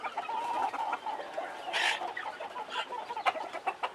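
Local Sonali chickens on a free-range farm in Nepal, clucking and calling in short, uneven bursts at moderate distance. One sharper squawk stands out among quieter outdoor background sound, and no one talks.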